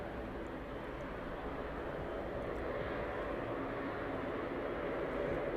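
West Atlantic Boeing 737 beginning to taxi at East Midlands Airport, a steady broadband jet engine rumble and roar that holds constant and slowly swells slightly throughout, with no voices.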